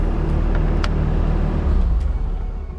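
Bobcat T590 skid steer engine running at a steady, loud, rumbling idle close by, with a few faint clicks over it.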